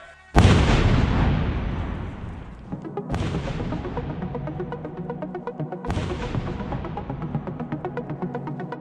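Live explosive detonated beside a G-Shock G-Steel watch in a blast test: three loud, close booms about three seconds apart, each a sharp broadband crack followed by a long rumbling, crackling decay.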